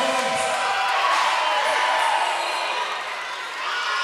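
A crowd at a strongman competition cheers and roars in a continuous wash of noise that dips slightly near the end, with no clear voices standing out.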